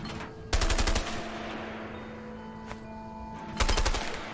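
Two short bursts of MP5 submachine gun fire in the video game A Way Out, each a rapid automatic rattle lasting about half a second, loud and close, separated by a quieter stretch with a single faint shot.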